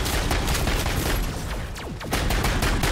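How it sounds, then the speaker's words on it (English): Dense, continuous automatic gunfire from a weapon in Modern Warfare Zombies, a rapid stream of loud shots filling the whole stretch with a brief dip near the middle before the firing resumes. "the gun is very accurate. There's not really any kick to it at all."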